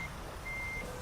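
Reversing beeps from a truck backing up in American Truck Simulator, a faint steady tone heard through quiet engine rumble, with no talking over it.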